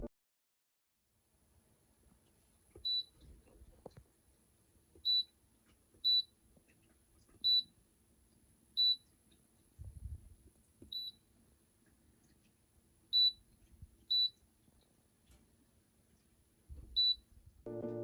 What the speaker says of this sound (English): I think I really love that little beep feature